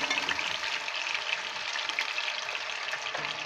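Ginger paste sizzles in hot oil in a kadhai, a steady, close, loud frying hiss with no breaks and no talk.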